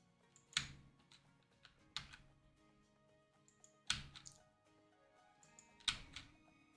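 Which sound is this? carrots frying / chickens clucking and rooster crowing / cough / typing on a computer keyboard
typing on a computer keyboard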